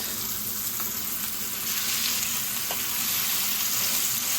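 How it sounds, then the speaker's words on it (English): Pork tenderloin sears in a hot pan with a loud, continuous sizzle that holds steady throughout, with no voices and only faint clicks underneath. "I'll sear these probably 3 minutes total on both sides, maybe flipping every minute."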